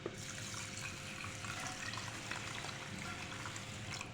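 Water runs in a quiet, steady stream as it is poured over sila rice to soak it for mutanjan sweet rice, a soft continuous trickle with no talking.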